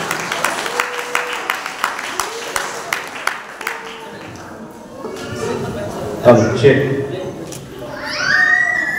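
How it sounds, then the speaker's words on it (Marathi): A group claps in a steady, even rhythm for several seconds at a church anniversary celebration, then the clapping fades into murmuring voices and a brief call. "जोरदार टाळ्या वाजवा।"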